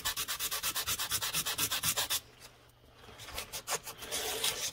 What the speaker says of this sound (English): I'm gonna take some coarse sandpaper. Okay, and I'm just gonna scuff it